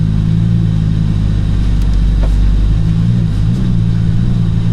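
A Lamborghini engine rumbling loud and close with a steady, deep drone and a slight shift in pitch as it revs for a drift.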